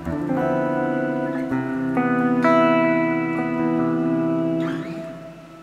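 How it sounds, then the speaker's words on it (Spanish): Electric guitar run through BIAS FX amp software for djent tones, sustained chords ringing clearly with shimmer reverb and a small delay trailing off at the end, no talking. "Y un pequeño delay al final."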